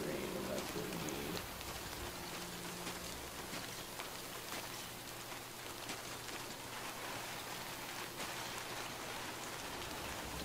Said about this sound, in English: the rain in this game looks fucking beautiful